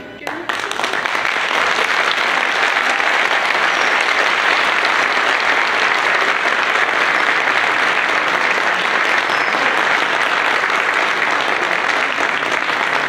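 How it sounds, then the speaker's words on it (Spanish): Sustained, dense applause from an audience for the Esmeralda orchestra, starting abruptly and holding at a loud, even level for the whole stretch with no break. "fuertísimos aplausos para la orquesta Esmeralda"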